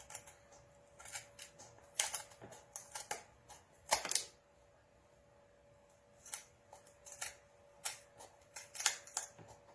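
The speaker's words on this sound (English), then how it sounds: "I'm just going to use my scissors to cut this off." Crisp snipping of scissors cutting off ends in short bursts, sometimes in quick runs of several cuts, close by against a quiet background with pauses between.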